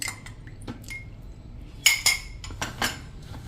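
Flour dough mixed with milk in a bowl while a spoon clinks and taps against the sides in short, irregular bursts, with soft, faint wet stirring between them, close and quiet, with no talking.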